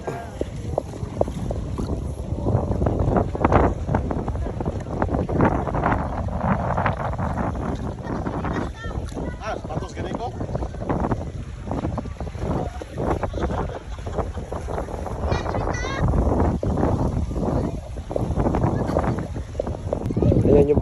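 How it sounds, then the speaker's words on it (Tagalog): A boat out on the water during island hopping at Samal Island, with steady engine and hull rumble mixed with heavy wind buffeting the microphone throughout. "Ayan yung bangka na sinakyan namin."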